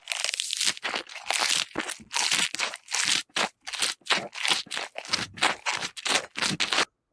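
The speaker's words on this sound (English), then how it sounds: "That's the sound of a cow chewing" A cow chews as a played sound effect, loud close crunching and tearing bursts in a steady rhythmic series of bites, each separated by brief pauses.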